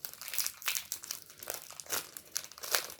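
Crinkly foil wrapper of a Pokémon booster pack being torn open and handled, a run of bright crackling rustles in short bursts, close and fairly loud with no talking.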